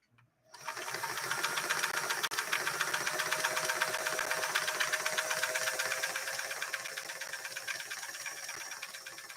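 A Singer 328K sewing machine, nicknamed Gracie, runs a ribbon-style fancy stitch through four layers of denim. After a brief quiet start it settles into close, continuous rapid mechanical chatter that holds steady for about nine seconds.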